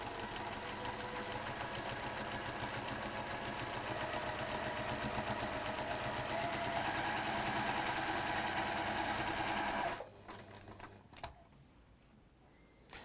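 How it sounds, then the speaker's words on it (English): Sewing machine running a quarter-inch seam while piecing a quilt block, a steady fast mechanical stitching hum for about ten seconds before it stops abruptly, followed by faint handling noises. "we're going to sew 1/4 inch either side"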